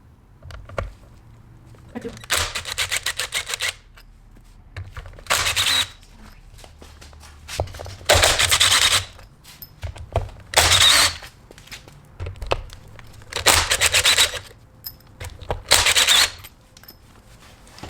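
Ratcheting tool backing out Torx T27 bolts from a ZF 6HP transmission valve body: repeated bursts of rapid metallic ratchet clicking, each lasting about a second, separated by brief pauses, close and fairly loud.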